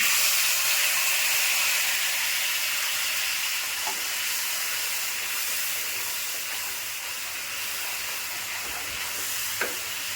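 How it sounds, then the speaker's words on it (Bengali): Cumin powder, turmeric powder and salt frying in hot oil in a pan, a loud continuous hissing sizzle close up, steady throughout with a couple of faint clicks. "এখন অল্প এটা ভেজে নিচ্ছি।"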